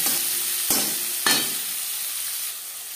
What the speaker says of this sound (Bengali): দিয়ে দেব পেঁয়াজ কুচি। পেঁয়াজ আমি হালকা করে ভেজে নেব।